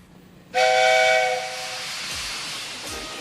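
A loud steam whistle bursts in suddenly with a bright, chordal tone, then gives way to sustained hissing steam.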